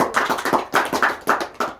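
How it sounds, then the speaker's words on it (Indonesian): A small group in an Indonesian school group-counseling session claps in a quick, patterned rhythm, sharp close hand claps in short clustered bursts. "Dari tepuk tangan dulu"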